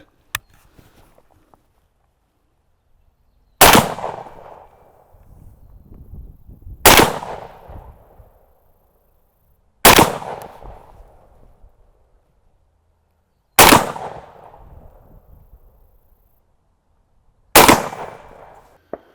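A Mossberg 940 Pro tactical shotgun fires Remington buckshot shells, five loud, sharp blasts spaced a few seconds apart, each followed by a brief decaying echo, with faint handling clicks between shots.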